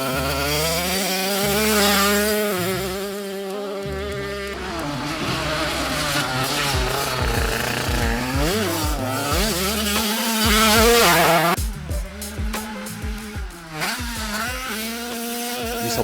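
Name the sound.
Peugeot 50cc motorcycle engine revving high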